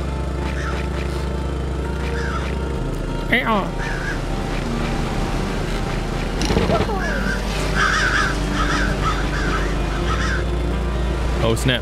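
Birds caw repeatedly in the video game Summer Catchers, several harsh crow-like calls spaced out over a steady low game background hum, some overlapping in quick clusters.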